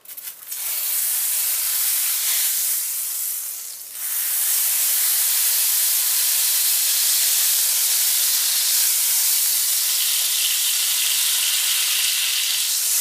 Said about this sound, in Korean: 저는 불을 끄고 레몬즙을 넣겠습니다